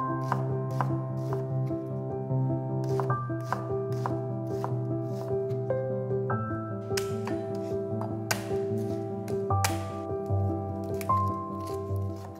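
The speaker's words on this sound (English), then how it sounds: "One onion, finely chopped." An onion being finely chopped with a knife on a board, a quick regular run of sharp taps with short pauses, close and clear over faint background music.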